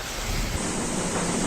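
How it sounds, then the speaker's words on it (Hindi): Strong wind from a hailstorm roars in a steady, loud, broad rush across farmland in Madhya Pradesh or Chhattisgarh, with a sudden low buffeting gust near the start and no voices. "तेज हवा, अंधड़ चला"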